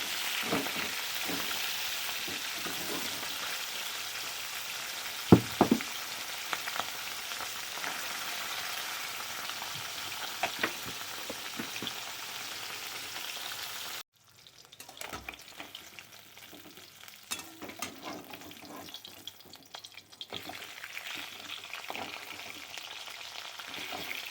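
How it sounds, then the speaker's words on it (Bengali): Fish frying in a pan gives a steady, close sizzle with occasional crackles and stirring clatter, easing briefly midway before the frying hiss resumes alone. "মাছগুলো সব ভাজা হয়ে গেছে, এবার মাছগুলো আমি তুলে নেব"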